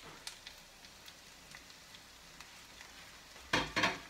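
Spring onion and chopped garlic drop into olive oil in a pan and begin frying, a faint low sizzle with scattered soft pops that surges into a brief louder crackle near the end.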